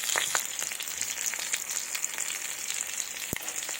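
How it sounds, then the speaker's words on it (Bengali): Black cumin seeds tempering in hot mustard oil for a fresh spinach dish give a steady, close, bright sizzle with scattered small crackles and one sharp pop near the end, with no voices. "এবার 5 ফোড়ন হিসাবে আমি কালো জিরে দেবো।"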